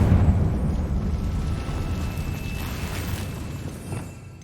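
A Confringo blasting spell goes off in Hogwarts Legacy, a sustained explosive roar and rumble that starts loud and slowly fades over several seconds, with no voices.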